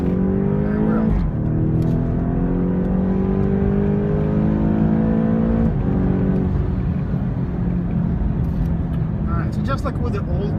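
2015 BMW X6M in M mode accelerating hard, a loud continuous engine roar climbing in pitch through gear changes, with a brief dip at each shift and cabin noise around it.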